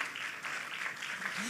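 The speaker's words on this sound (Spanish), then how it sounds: "Denle un aplauso fuerte al Señor." Church congregation at a Spanish-language service breaking into a short burst of clapping, brisk and fairly loud, with voices mixed into the noise.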